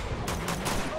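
Rapid gunfire in Uncharted 2: Among Thieves, a burst of three or four loud sharp shots in quick succession over a dense battle background, with voices mixed in.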